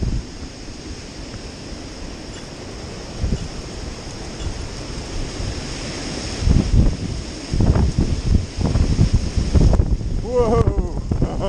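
Heavy gusts of wind sweep through trees ahead of a hurricane, a rumbling outdoor roar that builds and grows louder, with someone speaking briefly near the end.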